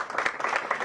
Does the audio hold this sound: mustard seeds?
no